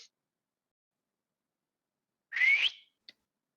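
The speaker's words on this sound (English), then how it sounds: "You get that loud whistle." A single loud, rising whistle lasting about half a second, followed by a brief faint chirp, in otherwise near silence.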